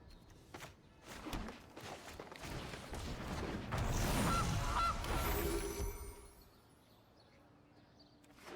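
A goose honks in the Magic: The Gathering Arena digital card game as the Gilded Goose card is played, a honking call rising amid card-game effects and soft mechanical clicks, with a brief muffled voice early on.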